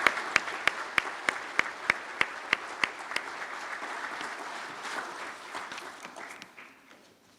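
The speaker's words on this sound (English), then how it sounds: "Can we please have a round of applause for the Gardner family?" Applause for a family at a soil and water conservation summer conference begins with a few sharp, evenly spaced claps up close, then spreads into a softer, scattered round from the crowd that tapers away.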